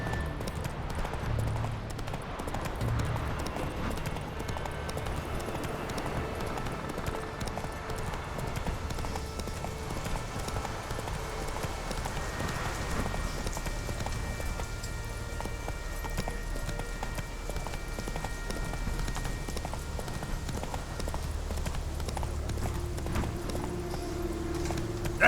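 In The Witcher 3: Wild Hunt, a horse gallops continuously, its hooves clip-clopping in a fast, steady rhythm throughout, with faint game sounds in the background.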